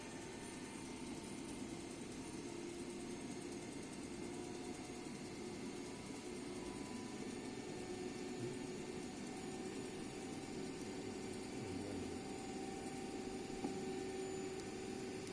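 A DC shunt motor runs steadily at 1134 rpm at 170 volts, giving a continuous, even hum with a faint high whine, no talk.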